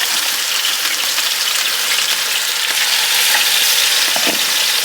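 Lamb chops frying in tallow in a skillet, a loud, steady sizzle that runs unbroken up close with no talk.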